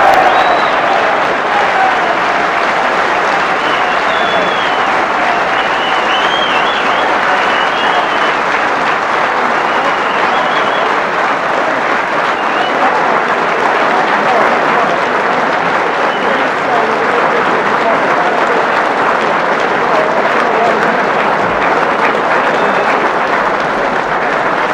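Snooker crowd applauding a 127 break, a dense, sustained wave of clapping that holds steady and loud for the whole stretch, with faint voices mixed in.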